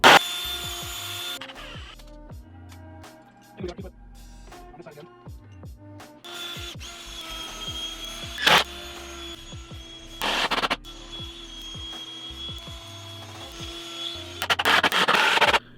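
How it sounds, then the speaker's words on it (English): A drill drives 4-inch deck screws into wood while building an I-beam sawhorse. Several short, whirring bursts of moderate loudness are separated by quiet handling noises, with the final burst the longest. "So I'm using these 4-inch deck screws for this section."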